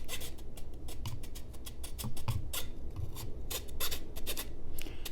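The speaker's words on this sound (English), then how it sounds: "Try the wood file here. Just basically try to like maybe round off this edge." A wood file rasps against the edge of a Rocktol SK05 budget multi-tool, a Leatherman Surge clone, in quick rhythmic back-and-forth scraping strokes, close and continuous.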